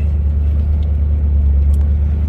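Vehicle engine held at steady, even throttle, a loud, constant low rumble close by with no change in pitch or level.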